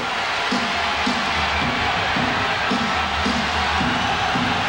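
Murmuring crowd of nearly 15,000 in a Seattle SuperSonics basketball arena during a 1994 NBA playoff game against the Denver Nuggets, a steady dense roar with faint rhythmic low thumps underneath.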